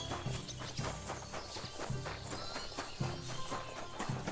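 A horse in Kingdom Come Deliverance 2 walks with steady, evenly spaced hoof clip-clops, close and clear over a soft game ambience.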